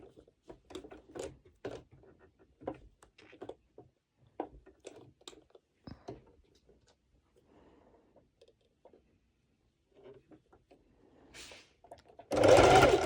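A sewing machine running a plain straight stitch on a sporty racerback top, in short bursts with pauses between, then a loud closing burst right at the end; no talking.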